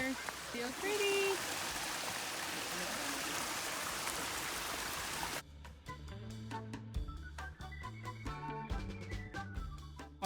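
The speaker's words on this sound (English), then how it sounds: "Walking right next to the creek." Creek water flows along the Buffalo National River, a steady bright rushing babble for several seconds before it cuts away to louder plucked music.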